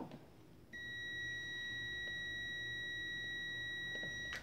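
Multimeter continuity beep while testing a microwave oven part, a single steady electronic tone held for several seconds at moderate volume, starting and stopping cleanly.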